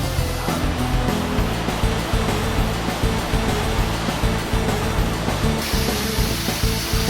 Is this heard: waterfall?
yes